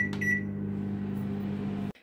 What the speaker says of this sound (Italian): E ora aspettiamo che il microonde faccia la magia.